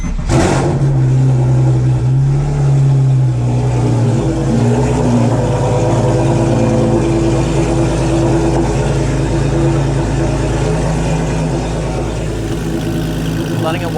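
A Porsche 987 Cayman engine idles steadily while warming up, a loud, close, even drone with a low hum that holds throughout and a brief rise in pitch near the start.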